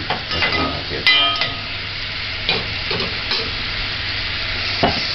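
Frankfurters simmering in water in a pan over a medium-high flame, giving a steady sizzling hiss with occasional louder pops and bubbling bursts, close up and continuous with no voices.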